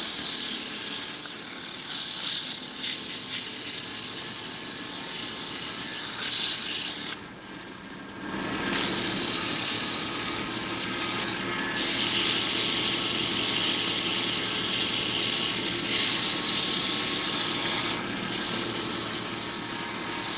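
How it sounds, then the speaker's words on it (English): A Find Buy Tool FL1221 wood lathe running in reverse while a piece is sanded, giving a loud continuous hissing, rubbing whir with a few brief drops where the sanding lifts off. "I've got reverse on this badass lathe from Find Buy Tool"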